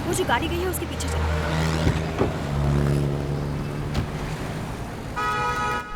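A taxi drives through city traffic, with a steady engine hum, passing vehicles and a brief horn-like tone near the end; voices talk over it.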